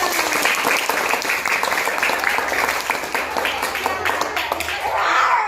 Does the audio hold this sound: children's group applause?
yes